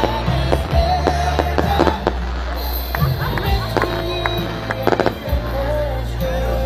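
Fireworks launched by paratroopers from their parachutes during an Independence Day display, heard as a series of sharp pops and crackling bursts over a steady low rumble of wind, with voices faint in the background.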